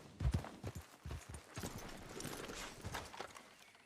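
Horse hooves clop on the ground in the Western game Red Dead Redemption 2. The hoofbeats are fairly faint and close, loosely rhythmic and irregular, with no talk over them.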